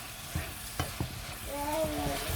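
Food fries in hot oil with a soft steady sizzle, broken by a few sharp clicks of utensils and faint tonal clinks, fairly quiet.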